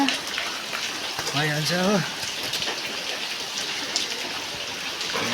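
Rain falls steadily outdoors in a muddy spot, a constant hiss of drops spread across the whole clip, while a person speaks briefly near the start.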